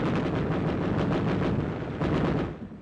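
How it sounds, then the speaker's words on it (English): Gunfire from troops dug in on a ridge during the battle of Okinawa, a dense loud rattle of rapid shots and booming reports blending into a continuous barrage, heard as an old noisy recording without talk. "the troops dig in and open fire"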